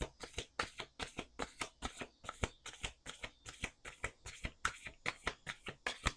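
A deck of playing cards is shuffled over and over in a brisk, regular rhythm of crisp riffling bursts, close and fairly quiet, with no talking.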